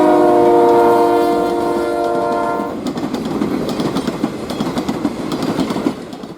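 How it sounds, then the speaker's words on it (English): A loaded sugar cane train hauled by a GP11 diesel locomotive on an industrial short line in Florida's sugar fields, opening with a loud sustained multi-tone horn blast, then steady rumble and clickety-clack of wagons rolling past, no talk. "Our first train is a loaded cane job heading from the fields to the mill in Clewiston, with GP11 number 302 pulling the train."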